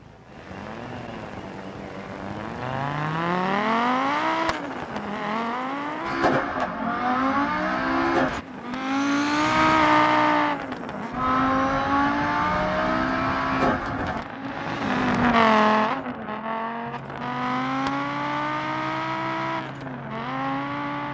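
An Audi rally car in the Dirt Rally video game on the Pikes Peak stage: the engine revs continuously, climbing and dropping in pitch through repeated gear changes, loud and up close, with no talking.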